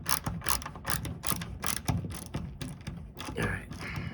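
Ratcheting on roof bolts while installing the roof of a 1984-1996 C4 Corvette, a run of close, quick clicking pulls with brief pauses and light handling noise.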